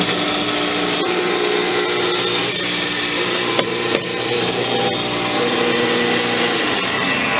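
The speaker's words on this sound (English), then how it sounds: "Got your electric motor on it." A 110-volt electric motor drives a walnut hulling machine with rocks inside that beat the nuts, giving a loud, steady mechanical drone with a rattling, grinding texture and a couple of brief knocks.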